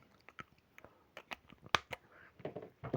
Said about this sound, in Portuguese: Deixa eu fechar minha caneta